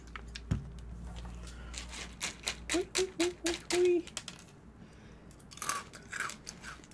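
A crunchy sweet dessert snack is bitten and chewed up close, with a run of rhythmic, crisp crunches, a pause, and then another short burst of chewing.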